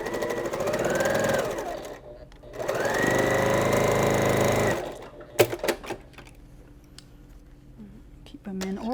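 A sewing machine stitches quilt block pieces for a Scandinavian Christmas quilt in two long, loud bursts of rapid whirring separated by a short pause, followed by clicks and handling noises with quieter stretches.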